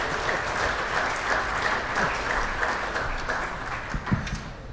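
Applause from an audience during a live stream after a sight-read music performance, a sustained even patter of many clapping hands at moderate level, with a few sharper claps standing out near the end.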